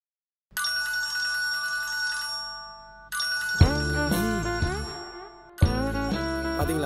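A mobile phone rings with an incoming call, a bright melodic ringtone in three loud bursts separated by short gaps, close and alone without speech.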